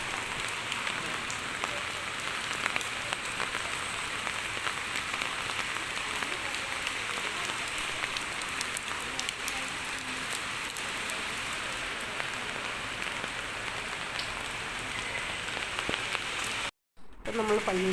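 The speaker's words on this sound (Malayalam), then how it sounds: "നല്ല മഴയാണ്." Heavy rain pours down near a church on a school morning, a dense, constant hiss of drops hitting surfaces that continues almost unbroken, with no one speaking.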